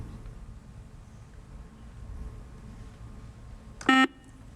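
A quiz show buzzer at a high school academic competition gives one short, loud electronic blast near the end, standing out against quiet room tone.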